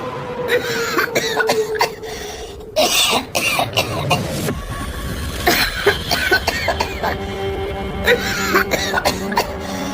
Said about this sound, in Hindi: वो जोर जोर से खांसने लगता है।